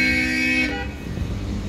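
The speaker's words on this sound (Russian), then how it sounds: "В Армении все сигналят." Car horns blare in a sustained chorus for over half a second, then fade into a rumble of passing traffic on a busy street in Armenia.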